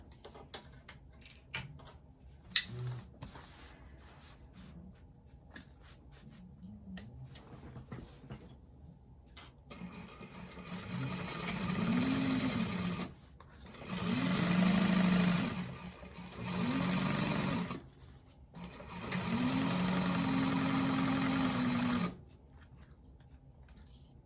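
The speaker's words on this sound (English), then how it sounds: "we want to sew down that with a 3/8 of an inch seam allowance" A sewing machine stitching a seam on a bag runs in four loud, humming bursts of several seconds each, with quiet handling clicks and rustles between the runs.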